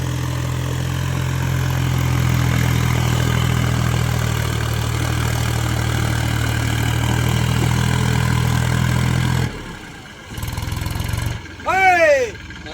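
Massey Ferguson 254 DynaSmart 4WD tractor engine stuck in deep mud, a loud steady low idle-to-labouring drone held for about nine seconds, then cutting out and giving way to short bursts of revving with higher whining tones.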